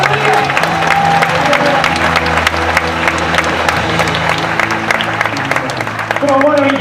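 A church congregation claps steadily throughout, its hands forming a dense continuous patter while music plays underneath and voices carry over the top.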